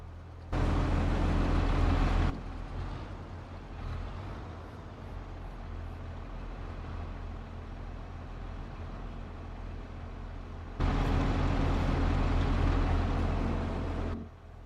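A combine harvester shelling corn in a farming video game runs with a steady low engine drone, swelling into two loud, dense roaring bursts at the start and near the end, with a quieter rumbling stretch between.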